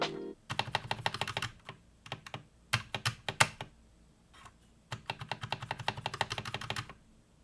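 Typing on an Akko 3068 Silent Bluetooth mechanical keyboard, quick bursts of muted key clicks in uneven runs with short pauses between, close and clear, no voices.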